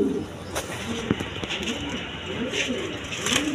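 A pair of big Bombay pigeons coo softly nearby in low, repeated throaty notes, with a little rustling and background noise around them.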